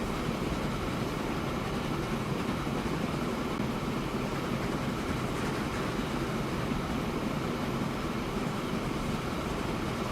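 A train running in the video game Transport Fever 2 produces a continuous, even rumbling roar that holds steady without breaks throughout.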